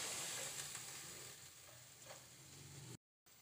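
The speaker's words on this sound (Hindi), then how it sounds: "ये तीनों चीज़ें मैं इसी में डाल दूँगी और इसे मैं थोड़ा सा हिला लूँ" Chili, turmeric and spices sizzle steadily in hot oil in a frying pan as they are stirred, with soft scraping under the constant frying hiss, cooking achari aloo baingan.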